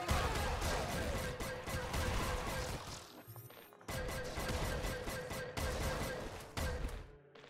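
Super Lance gun in the video game Nuclear Throne Ultra Mod firing in dense, rapid volleys of crackling shots, with a brief lull partway through before the barrage resumes.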